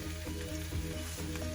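Okra frying with spices in a pan, a steady close sizzle and crackle of hot oil with soft stirring scrapes, quiet overall and no voices.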